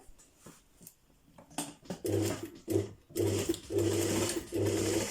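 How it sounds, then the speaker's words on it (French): Domestic sewing machine stitching along the edge of a zip on a trouser hem, running in several loud close bursts of steady whirring with short pauses between, after a few quieter handling sounds. "Et je vais piquer au bord. Alors on y va tranquillement pour notre piqûre."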